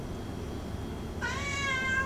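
A house cat gives one clear, fairly loud meow near the end, rising from a quiet background with no talking.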